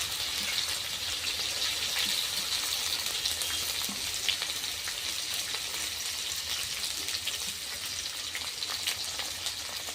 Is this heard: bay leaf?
yes